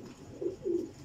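Pigeons at a rooftop loft give two soft, low cooing calls in quick succession, close by against quiet background noise, with no talking.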